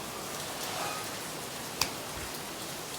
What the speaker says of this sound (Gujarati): વરસાદ ગજબનો છે